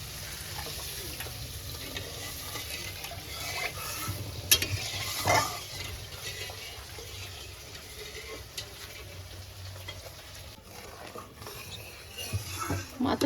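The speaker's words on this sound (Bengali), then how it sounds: "মাছের ঝোলটা খুব ভালো করে ফুটে গেছে" Quiet, steady bubbling and soft sizzle of a mustard pabda fish curry simmering in a pan on the stove, with occasional faint clinks and stirring sounds over a constant low hiss.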